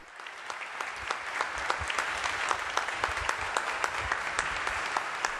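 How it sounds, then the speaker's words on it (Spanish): Sustained applause from a congregation of bishops, priests, deacons and religious follows Pope Leo's homily at a prayer meeting, steady dense clapping held at an even level for the whole stretch, with no voices over it. "Inmediatamente el aplauso de todos los presentes a la homilía que el Papa León ha pronunciado"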